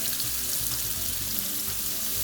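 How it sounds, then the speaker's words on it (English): Scallops sear in a pan over medium heat, giving a dense, continuous loud sizzle with no pauses and no voices. "So I'm going to begin to cook the scallops, brown the scallops"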